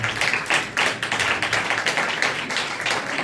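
Dense audience applause fills the hall at a religious gathering, a loud, continuous wash of many hands clapping steadily throughout with no talk over it.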